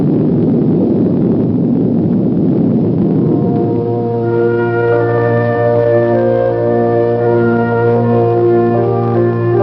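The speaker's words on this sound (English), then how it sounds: "The awesome power of the nuclear explosion has been harnessed" Nuclear explosion: a loud roaring rumble that settles into a sustained droning tone with layered hum, continuous and heavy throughout.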